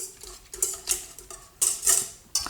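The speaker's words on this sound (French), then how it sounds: "Et là, je viens mélanger avec mon fouet rapidement." Whisk stirring fresh baker's yeast into lukewarm milk in a bowl, giving quick bursts of scraping, clinking strokes with brief pauses between them, close and fairly quiet.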